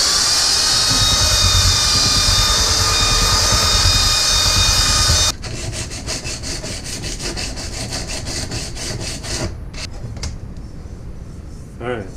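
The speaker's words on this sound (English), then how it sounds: "I'm going to take a belt sander now and just kind of smooth this up a little bit so I don't get any aluminum slivers" A belt sander grinds a piece of aluminum with a loud, steady, high-pitched whine, then cuts off abruptly and gives way to quieter scraping and rubbing sounds.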